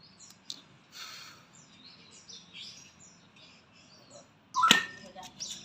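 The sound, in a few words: murai (magpie robin) songbird calling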